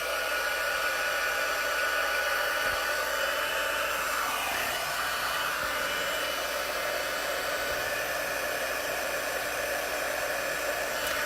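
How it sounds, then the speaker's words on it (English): A heat tool melting embossing powder on tin, heard as a steady loud blowing roar like a hair dryer that runs unbroken and close throughout, with no talking. "I'm gonna bring my heat tool in"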